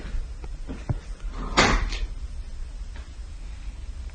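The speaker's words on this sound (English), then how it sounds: "The door to the attic somehow opens on its own as soon as Nick approaches it." An attic door swings open with a brief creak and a soft knock, set against a constant low rumble of room noise.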